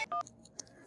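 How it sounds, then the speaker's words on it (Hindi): Two quick electronic phone-dial tones beep close by, followed by faint clicks and a soft tone in near silence. "बिन्नू को फोन लगाते हैं।"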